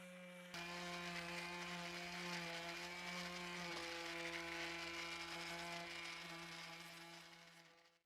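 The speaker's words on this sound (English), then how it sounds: "so we got it all sanded down, all scuff sanded" A power sander fitted with a foam pad scuff-sands a wooden dining table, running as one steady, loud, close whine with a strong hum and bright harmonics for about seven seconds before winding down.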